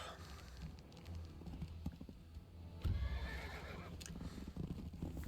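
A horse neighs amid hoof clip-clops in the Wargroove 2 strategy game, with a faint, busy mix of game effects and a brief louder burst partway through.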